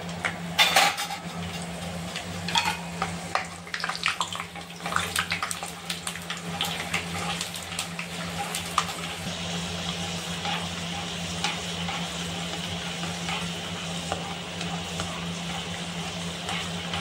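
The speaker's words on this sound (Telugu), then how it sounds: "బాణలిలో ఈ ఆయిల్ వేడెక్కినాక పల్లీలు వేసి వేయించుకోవాలి ఫ్రెండ్స్" Peanuts frying in hot oil in a pan give a steady close sizzle, with clinks and scrapes of a spoon against the pan now and then, mostly early on.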